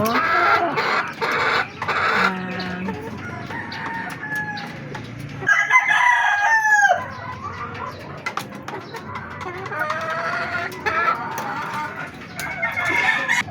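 Black Kelso gamefowl rooster crowing at a breeding yard, a loud crow in the middle amid other fowl calls and clucks, with steady background bird and yard noise.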